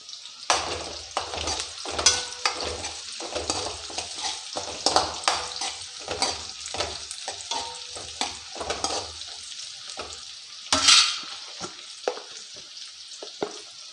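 Turmeric gets stirred through a sizzling frying pan for a brinjal curry, with repeated scraping spoon strokes over a crackling fry, close by and without speech.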